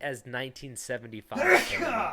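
A single sharp sneeze bursts out mid-sentence in the middle of steady podcast-style talk, close and fairly loud.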